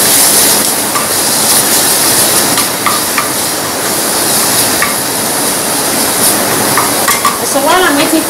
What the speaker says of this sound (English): I'm going to put it right in here. Just to stir it up a little bit.